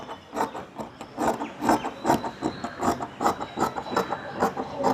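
Scissors cutting cloth for a pillow cover, a steady series of soft rhythmic snipping and rubbing strokes at close range, fairly quiet with no voices.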